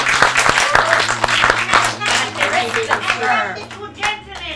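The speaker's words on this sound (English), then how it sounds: "Let's give ourselves a round of applause." A crowd at a celebratory gathering breaks into dense, steady clapping that continues throughout, with voices mixed in over the applause.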